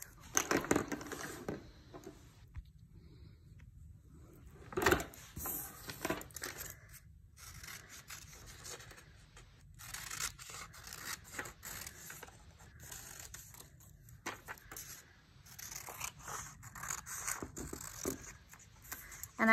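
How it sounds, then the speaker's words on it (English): Scissors cut paper craft pieces up close, giving repeated crisp snips mixed with rustling and handling of the sheets in an irregular rhythm. "I'm going to start on my cutting. We have to cut all our pieces out."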